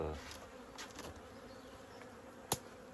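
A honey bee swarm hums steadily at a ten-frame hive, a dense close buzzing with a brief sharp knock near the end.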